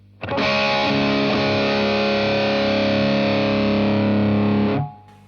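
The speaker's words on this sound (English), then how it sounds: "I turned the level control down as I was turning the distortion up" An electric guitar chord rings through heavy distortion from a Suhr Riot pedal, thick and buzzing, held steady for several seconds before cutting off abruptly.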